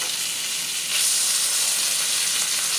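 Breakfast burrito ingredients frying in a hot pan over raised heat, a dense steady sizzle and hiss that swells a little louder after the first second and holds close and continuous with no talking.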